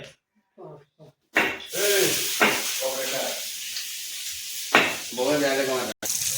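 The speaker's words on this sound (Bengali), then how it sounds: "পেঁয়াজ লঙ্কা ভাজছে" Onion and chili fry in a pan, a close, steady sizzling hiss that starts abruptly after a quiet moment and runs under intermittent voices talking nearby.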